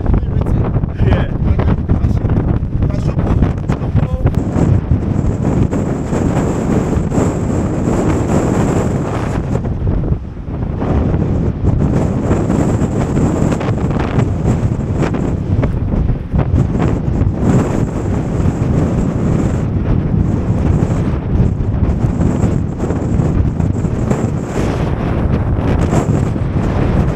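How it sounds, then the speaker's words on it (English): Strong wind buffeting the microphone at Cape Point, the southernmost tip near the Cape of Good Hope, a loud continuous roar with gusts throughout, with faint voices in the background. "It's windy."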